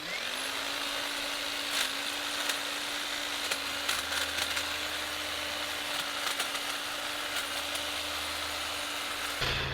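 EGO 56V cordless multi-tool hedge trimmer held at a right angle, cutting a tall hedge: a steady, fairly quiet motor whine runs throughout with light crackling and snipping bursts from the blades, then cuts off abruptly at the end.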